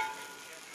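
Jaggery dosa sizzles steadily in oil on a hot pan, a close, even hiss that holds for under a second.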